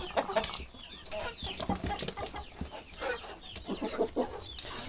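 Young chickens and a pretty grey cockerel cluck busily at close range, with repeated short calls overlapping in an irregular, continuous farmyard chatter.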